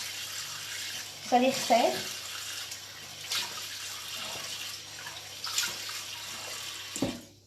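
Cool tap water running and splashing while a face is rinsed in a bathroom, a steady close hiss with brief splashes, under someone speaking French.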